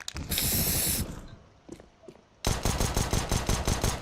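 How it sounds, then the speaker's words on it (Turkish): Spray paint tag sprayed in CS:GO, a dense hissing burst near the start, then a quieter stretch before a loud run of rapid clicking mechanical bursts fills the rest. "Eko taktiği yapacaksak görmüş olduğunuz spreyi basacağız."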